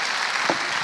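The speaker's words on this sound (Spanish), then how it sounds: "venga, el valiente. Aplausos." A short burst of steady audience applause at a corporate event stage presentation, even and continuous from a sizable crowd, with one slightly louder thump partway through.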